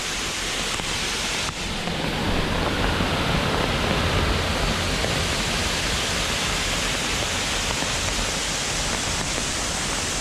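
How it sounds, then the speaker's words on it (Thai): Steady, powerful rush of a large waterfall at Chantathen Waterfall in Chonburi, Thailand, in rainy season: a dense roar of falling water that holds constant throughout with no voices. "น้ำตกมันมีขนาดใหญ่มาก"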